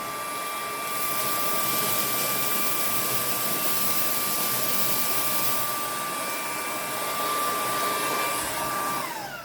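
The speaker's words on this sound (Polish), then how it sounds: "I może ustawimy właśnie odkurzacz na tej mocy średniej i zobaczmy." A PURENO V200 250 W cordless stick vacuum fitted with a crevice brush and running on medium power gives a continuous high-pitched whine and airy rush. The tone stays steady close up, then dips briefly near the end.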